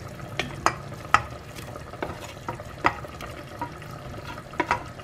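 Kadamba sambar with asafoetida simmers in a pot, giving soft bubbling and scattered pops and clicks at an irregular pace, close and moderately quiet.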